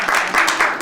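A brief, close burst of audience applause at a law symposium on administrative law, dense clapping swelling and fading over under a second.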